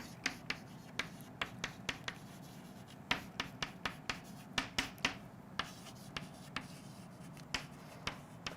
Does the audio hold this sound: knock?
no